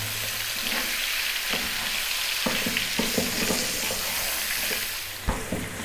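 Beef sizzles steadily in a pot on medium-low heat for an Arab-style stew, a constant loud frying hiss broken by a few scraping knocks as it is stirred, with no talking.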